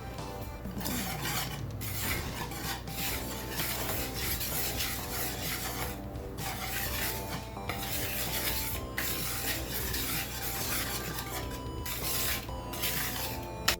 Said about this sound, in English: in a separate bowl, we are now going to whisk together 3 cups of flour, 1 tablespoon of baking powder, and about a pinch of salt